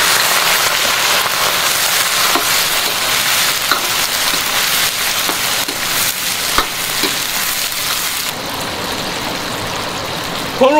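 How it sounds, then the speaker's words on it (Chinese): Sugar cooking into caramel in a large iron wok, giving off a loud, steady bubbling sizzle with a few sharp pops and a slight drop in intensity near the end. "下面咱们炒一个糖色"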